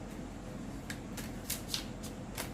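Tarot cards being shuffled by hand, quiet riffling bursts repeating every half second or so, close up and soft, alone without speech.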